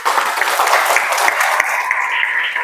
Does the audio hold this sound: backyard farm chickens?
no